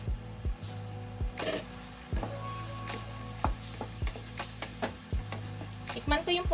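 Squid frying in a pan, a soft sizzle under repeated scraping and clattering strokes of a utensil stirring, arriving in irregular bursts close by.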